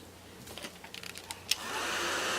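A few light clicks and taps come first, then a hair dryer switches on and blows steadily and close by, drying a handmade Christmas craft piece.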